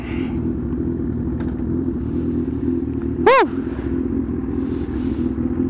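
A Kawasaki Versys 1000 SE motorcycle engine rumbles steadily while riding, and a person lets out a brief excited whoop partway through.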